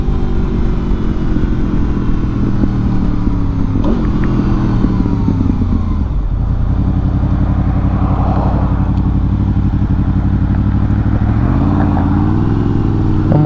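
A 2002 Honda VFR800 with 7,000 miles, up close and loud, holds a steady idle and then climbs in a sustained rev toward 6,800 rpm, with a rising engine whine and no talking.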